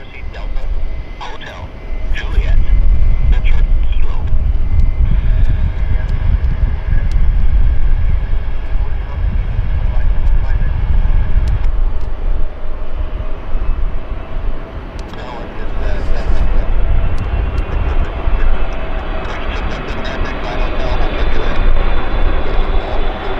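Airliner touching down on runway 08 Left at Vancouver International Airport (YVR), a loud, sustained roar of engines and rushing air that holds steady, dips briefly midway, then swells again, heard from a distance on the airfield.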